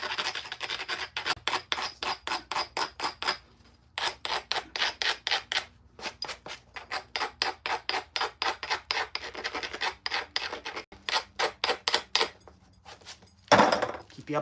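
The edge of a glass arrowhead is abraded in quick rhythmic rasping strokes, repeated in bursts with short pauses, close and steady, and a louder scrape comes near the end.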